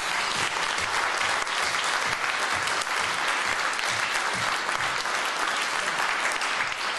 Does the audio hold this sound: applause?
yes